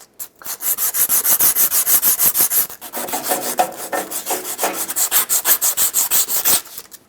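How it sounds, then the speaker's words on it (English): A corroded metal part on a Ford E-350 neutral safety switch is sanded with a narrow strip of sandpaper, giving loud, close, rhythmic back-and-forth scrubbing strokes in steady bursts, with no talking. "sand this down a little"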